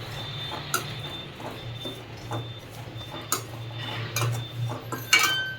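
Flattened rice (avalakki) roasting with ghee in a pan, heard as soft scraping and light metallic clinks of a utensil against the pan over a low steady hum, with a few sharper clacks near the end.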